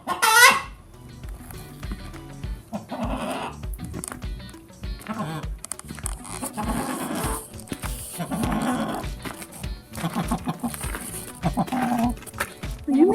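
Chickens clucking and murmuring close by around nesting boxes, in several loose bursts across the clip, with a person talking softly among them.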